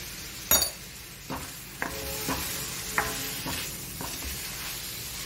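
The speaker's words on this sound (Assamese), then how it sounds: "এইখিনি মছলাখিনি অকণমান ভুনি ল'ম" Spices (salt, turmeric, chili powder, cumin, coriander and pepper) frying in a pan with a splash of hot water for a magur fish curry: a soft steady sizzle broken by several scraping stirs and light utensil clinks.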